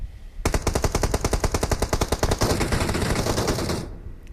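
A machine gun fires in PUBG Mobile, a loud, close, rapid burst of evenly spaced shots that runs for over three seconds before cutting off. No one speaks.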